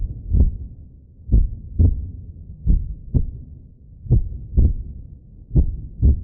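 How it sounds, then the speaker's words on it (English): Heartbeat sound effect, a slow, steady run of low thumping pulses, mostly paired lub-dub beats repeating about once a second, deep and muffled against quiet. "A heartbeat."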